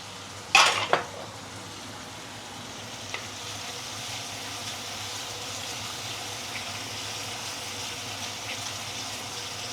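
Hot oil in a pan for sweet and sour pomfret, with a loud clatter of a utensil at the start followed by a steady, fairly quiet sizzle with occasional small ticks.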